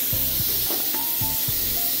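Steam hisses steadily from a pressure cooker as its weight is opened while cooking masala gosht, a continuous loud rush with a few low clunks and knocks beneath it.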